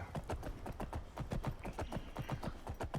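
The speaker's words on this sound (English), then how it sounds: "riding a horse that's with no perks. It's so slow." Horse hooves clip-clop steadily at a slow, even walking pace in modded Skyrim, with soft, regular thuds over a faint background.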